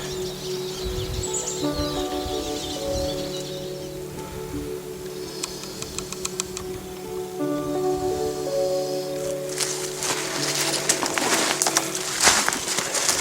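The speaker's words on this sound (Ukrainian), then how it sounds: "Пташок геть не видно. Але базар, їхній базар дуже добре чуть." Birds call and chatter unseen in a forest, with cooing, pigeon-like tones and scattered chirps over a steady background, loud and busy throughout with rustling toward the end.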